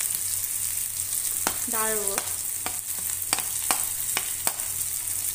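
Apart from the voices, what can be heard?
peanuts and chillies frying in a pan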